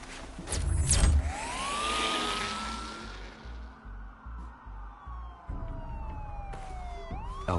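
Police car sirens wail and sweep through a Batman video game scene, the rising and falling tones loud at first and then holding steady over a low rumbling background for several seconds.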